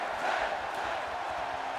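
A virtual arena crowd in the wrestling game WWE 2K18 roars and chants in a continuous wash of cheering, steady and moderately loud across the whole moment.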